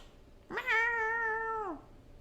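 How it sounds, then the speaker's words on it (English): A domestic cat gives a single clear, drawn-out meow of about a second, close and loud against a quiet room, with no talking over it. "We're trying to lure my cat, over with Cass's keys"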